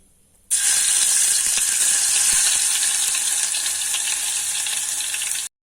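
Garlic paste hits hot oil for a chicken fry and bursts into a loud, steady sizzle that starts abruptly and continues unbroken, with no voices.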